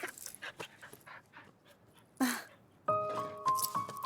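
A Labrador dog pants rapidly in short, breathy bursts nearby, with a soft whimper mixed in, followed by brighter sustained tones and rustling toward the end.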